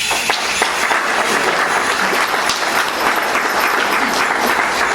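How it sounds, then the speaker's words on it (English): An audience at a veterans art festival claps for two young northern-style jingle dancers, loud dense applause that continues evenly for the whole stretch. "If you can give them a round of applause."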